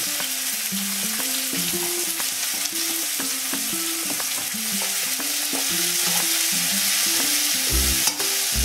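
Turmeric stir-fried in a pan for a wild leafy vegetable dish, with steady close scraping and stirring strokes over a continuous sizzle, no talking.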